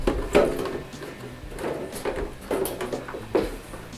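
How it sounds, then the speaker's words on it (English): Soap drawer being fitted into a Bosch washing machine during a bearing replacement, with a few close plastic knocks and sliding clunks spread across a few seconds, no talking. "Now we'll fit the soap drawer."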